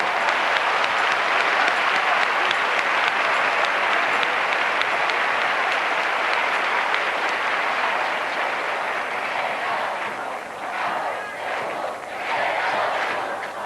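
Sustained loud applause from a gathered audience of Rocío brotherhood members, a thick continuous patter of many hands that thins into scattered rhythmic claps and shouts toward the end.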